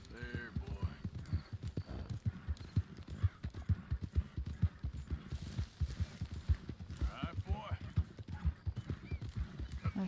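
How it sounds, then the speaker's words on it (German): Horse hooves clip-clop steadily in Red Dead Redemption 2, joined by an occasional whinny, while people talk over the game throughout. "Auch tolle Pferdchen."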